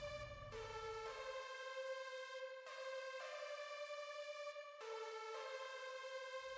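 Sustained organ chords in a produced beat, held tones that cut out and restart roughly every two seconds, standing alone with no drums or talk audible.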